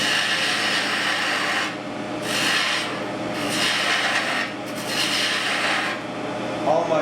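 A wooden goblet is sanded during woodturning, giving a steady, close rasping rub that swells and eases in slow waves, with no talking.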